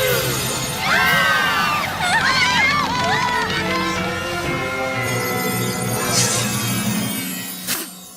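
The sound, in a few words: crowd of ponies screaming in cartoon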